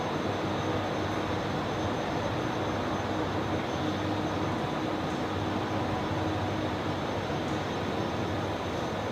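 Airplane taking off at night from runway 19 right at Brisbane Airport, a steady broad engine roar heard from a distance, constant and unbroken with no talking.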